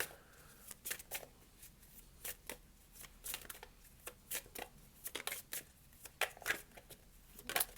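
Tarot cards shuffled by hand, a steady run of crisp riffling bursts and soft slaps repeating over and over, close and fairly quiet, with no voice.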